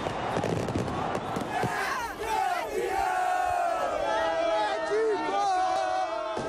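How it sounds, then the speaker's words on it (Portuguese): Athletico Paranaense supporters celebrating a Copa Sul-Americana title in the early hours outside the Arena da Baixada, a loud crowd of cheering, chanting and shouting voices that fills the whole scene. "Já era madrugada quando a torcida atleticana, enfim, explodiu de alegria."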